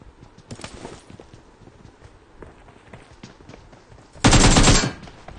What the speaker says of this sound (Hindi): शॉट गन फट रही है।